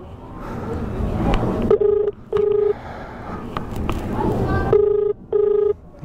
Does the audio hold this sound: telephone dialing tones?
yes